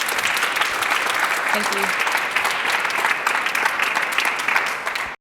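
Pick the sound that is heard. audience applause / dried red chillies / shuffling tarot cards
audience applause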